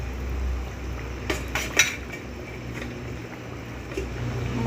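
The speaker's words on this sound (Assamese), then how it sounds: "এতিয়া মই ইয়াত মাছকুটিটো দি দিম" Snakehead fish pieces going into a pot of boiling water for an Assamese papaya and black pepper stew: a few brief knocks and splashes over a steady low bubbling rumble, with no talking.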